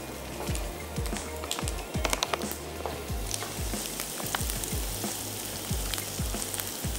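Green chilies stir-fried with chili garlic sauce, sizzling continuously in the pan, with repeated scraping stirs and the clatter of a spatula throughout.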